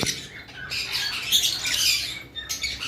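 Lovebirds, including violet-coloured birds, give harsh, shrill squawks in a rapid overlapping burst, close and loud, with no voices.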